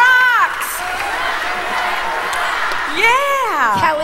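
A loud wave of applause fills the 2009 Miss Michigan pageant hall, with high whooping cheers rising at the start and again near the end over continuous clapping.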